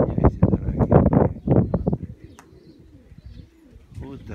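Pigeons burst into flight with a flurry of loud, rapid wingbeats, then soft, low cooing carries on more faintly as the flapping fades.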